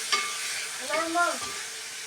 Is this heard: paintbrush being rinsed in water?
no